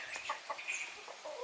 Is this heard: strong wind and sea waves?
no